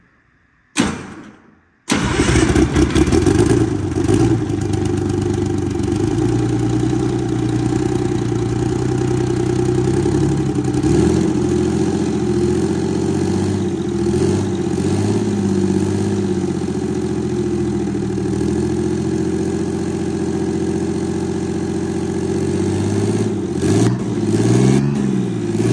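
A Detroit Diesel 6V92TA bus engine cranks briefly, then fires up and settles into a loud, steady idle with a low rumble that continues throughout.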